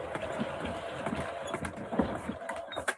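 Henry Hoover vacuum cleaner reeling in its power cord in a pub shed: a continuous close mechanical rattling and whirring with irregular clicks and knocks, ending abruptly.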